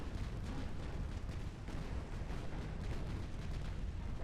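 Six-inch naval guns fire in the Ultimate Admiral Dreadnoughts video game, blending into a loud, continuous, roaring barrage with no clear gaps and no voices over it.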